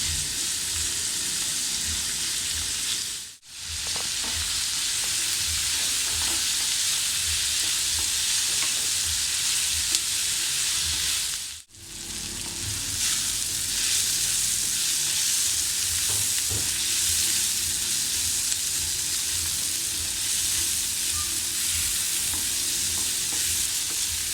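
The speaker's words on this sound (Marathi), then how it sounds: "आता आपल्याला हे व्यवस्थित असं छान परतून घ्यायचं आहे म्हणजे टॅमॅटो आणि कांदा एकदम छान असा लालसर आणि मऊसर असा व्हायला पाहिजे" Onion and tomato sauté in a pan for egg bhurji, a dense continuous sizzle with steady stirring scrapes, dropping out briefly twice before resuming at full strength.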